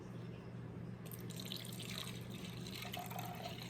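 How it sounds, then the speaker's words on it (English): Wine poured into a glass indoors: a steady close liquid trickle runs for a few seconds over a low constant hum, with no talking. "So I'm going to pour myself a glass of wine"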